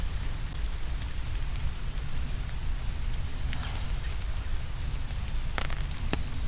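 Steady rain falling on a wooded creek trail, a dense even hiss with scattered drop ticks throughout, loud and close, with no voices.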